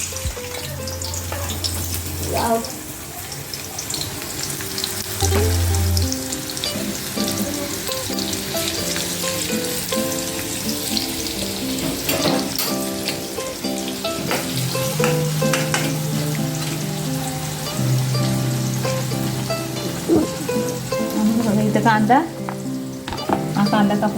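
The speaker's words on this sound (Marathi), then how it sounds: "जाडसरच मी चेचून घेतलं आहे आलं लसूण आणि मिरची तर हे टाकते त्याच्यामध्ये तेलात" Coarsely crushed ginger, garlic and chili frying in hot oil for a village-style chicken rassa, a loud, sustained sizzle with stirring and clinks of a utensil, while a voice talks over it at times.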